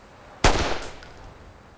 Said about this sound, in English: He tried to shoot Igor?